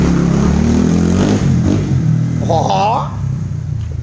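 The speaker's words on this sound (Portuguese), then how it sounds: "Vai testar a motoca" A fuel-injected Honda Titan 150 motorcycle with a 190 kit running on ethanol roars and revs close by. Its engine rumbles loudly throughout while a man calls out briefly over it.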